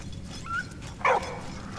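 A dog in the World War I trench game Valiant Hearts gives a short whimper and then one brief yip or bark, game audio heard over a low background hum.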